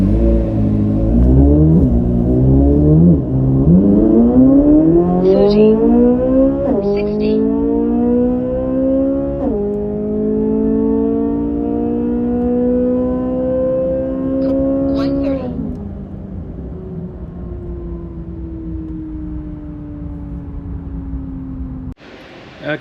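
A Corvette C8 Z06 fitted with a JLT intake accelerates hard from 60 to 130, its loud engine note climbing steeply through several gears with brief dips at each upshift, then easing into a steady falling drone before cutting off.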